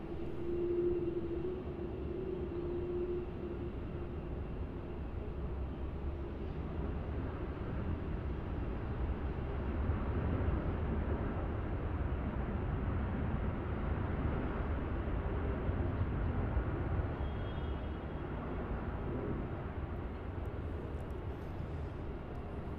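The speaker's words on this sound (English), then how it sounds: "taxiing straight over to runway 34 for its departure is a Virgin 737-800" A Virgin 737-800 airliner taxiing toward its departure runway at Melbourne Airport gives off a low, steady jet rumble, fairly distant and continuous, with a faint whine heard early on.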